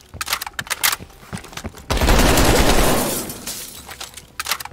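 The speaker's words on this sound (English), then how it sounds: "Please, they're shooting at us." Gunfire in the video game Call of Duty Black Ops Cold War: scattered sharp shots at first, then a dense sustained burst of rapid fire for about a second, followed by a few more isolated cracks.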